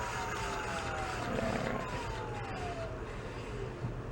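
An electric moped motor whines steadily, its pitch sliding up and down as the throttle is worked, a continuous close electric tone over a low steady hum.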